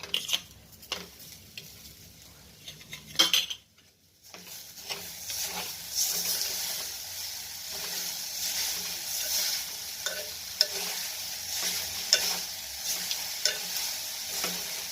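Grated coconut and sugar are stirred in a hot pan for coconut sweets, a soft continuous sizzle with rhythmic scraping strokes after a brief pause near the start.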